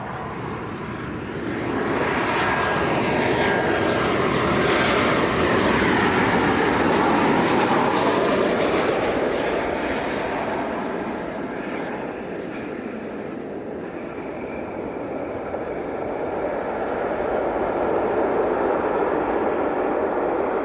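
A Ryanair airliner from Parma arriving at Leeds Bradford Airport roars past, a loud broad engine rumble swelling, easing slightly, then building again over about twenty seconds, heard at a distance with no talk.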